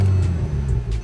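A Porsche 911 Turbo S (918 Spyder Edition) starting up, a loud, close, deep engine rumble settling into a throaty idle, with a few faint higher blips.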